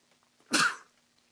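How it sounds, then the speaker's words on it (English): A single short human sneeze, one sharp burst close to the mic in an otherwise quiet room. "Sorry, I had to sneeze."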